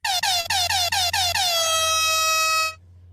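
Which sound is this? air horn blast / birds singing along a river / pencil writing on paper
air horn blast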